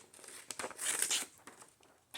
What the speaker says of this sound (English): So let's cut these threads out here